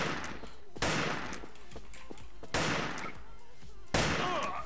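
Gunfire in a first-person shooter match, three heavy rifle-like bursts roughly a second and a half apart, each a loud sharp crack trailing into noisy decay, with no voices over it.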